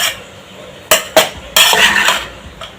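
Lemon rice being stirred and turned over in a pan, with sharp metal spoon knocks against the vessel followed by a longer scraping, rustling stretch of mixing, close and loud.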